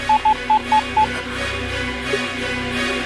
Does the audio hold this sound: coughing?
no